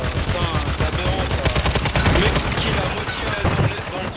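Rapid automatic gunfire in Call of Duty Warzone, loud sustained bursts of shots crackling close up, dense and continuous, with game effects layered underneath.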